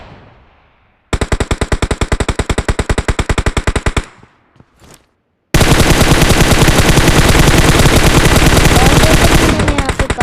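Rapid automatic gunfire in a shooter video game: a steady burst of evenly spaced shots, a short lull with a few scattered cracks, then a longer, denser and louder stream of fire close up.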